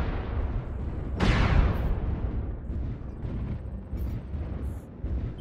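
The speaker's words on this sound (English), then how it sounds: "Warning, incoming missile. Warning, incoming missile." Incoming missiles burst against a mech in MechWarrior Online, a heavy booming explosion with a rushing tail amid constant rumbling battle noise, followed by smaller thuds.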